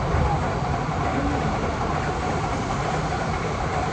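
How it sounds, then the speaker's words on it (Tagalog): A Shinkansen bullet train passing at full speed makes a loud, continuous rushing roar that holds steady from start to end, with no break or build. "abangan natin yung pagdaan ng bullet train"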